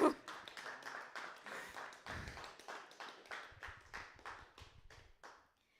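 An open mic audience claps for a singer named Gloria, a quick run of steady hand claps close by that thins out and stops.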